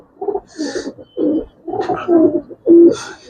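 Giribaz coloring pigeons coo close by in a series of about six soft, throaty coos with short pauses between them.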